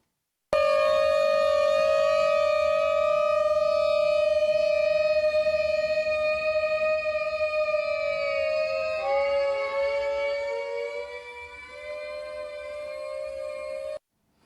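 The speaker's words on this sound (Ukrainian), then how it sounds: "сигнал повітряної тривоги біля резиденції дипломатів російського посольства в Осло" An air raid siren sounds near a Russian embassy diplomats' residence in Oslo: a loud, sustained wailing tone that holds steady, then drops in pitch and dips before continuing, with no voices.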